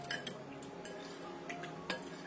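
A spoon stirs a tofu seasoning mix of pepper and water in a bowl, giving light, quiet clinks and scrapes against the bowl at an uneven, brisk pace, close by with no talking.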